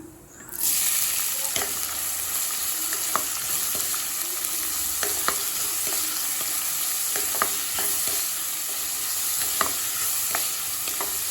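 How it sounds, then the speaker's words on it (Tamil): Chopped onions sauté in hot oil in a kadai for a potato masala, spiced with bay leaf, cinnamon, clove, cardamom and cumin. A loud, steady sizzle runs under repeated close clicks of a stirring spoon. "வெங்காயம் நல்லா கலர் மாறுற வரைக்கும் வதக்கிக்கலாம்."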